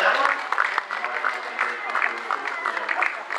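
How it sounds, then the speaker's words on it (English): Audience applauding at a tiger show at Dreamworld on the Gold Coast, Australia, a steady crowd clapping that lasts throughout, with a voice talking over it. "Come on guys, give a round of applause there."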